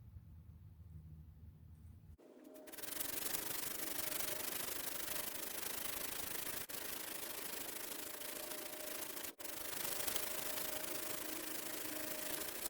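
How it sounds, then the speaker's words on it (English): Steady, continuous rasping of sandpaper rubbed against the metal chip breaker edge of a Stanley Bailey No. 4 hand plane, starting after a brief quiet moment and continuing evenly with only tiny breaks. "I'm going to use some sandpaper here to start flattening the edge of the chip breaker."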